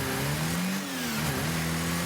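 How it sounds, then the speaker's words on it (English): Engine of the Octane car in the Rocket League video game, a loud mid-pitched buzzing drone that rises, dips briefly and climbs again over two seconds. "Well, it sounds like this normally."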